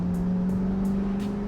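A Pontiac with an LS1 V8 and six-speed manual, engine droning steadily and smoothly at close range under load, short and unbroken with no talk.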